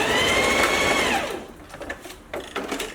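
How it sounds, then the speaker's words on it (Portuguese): A sewing machine stitching a lined coat, with lightweight lining fabric held to the facing, runs a brief loud close whirring burst that winds down after a second, followed by quieter handling clicks and rustles of fabric. "eu vou passar uma costurinha aqui para segurar"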